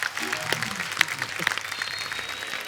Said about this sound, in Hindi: एक बार जोरदार तालियां हुमा और साकिब के लिए